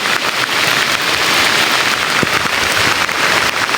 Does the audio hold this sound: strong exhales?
no